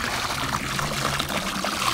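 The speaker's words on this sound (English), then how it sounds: "And I'll take the gallon and I'll pour it right over it." A gallon jug of liquid pool chemical is poured straight into a swimming pool, giving a continuous, close splashing gush that stays even for the whole stretch.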